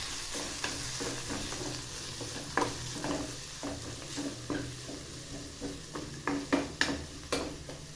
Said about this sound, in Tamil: கருக விடாமல் வதக்கி எடுத்துக்கணும்.